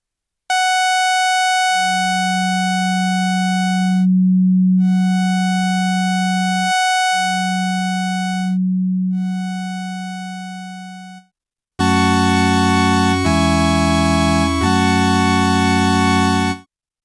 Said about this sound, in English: on the first wavetable, we will use a sawtooth wave, and on the second wavetable, we will use a sine wave